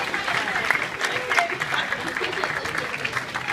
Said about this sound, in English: Please also give a warm round of applause for Mr. Kyle Hebert, who allowed himself to be killed for this event.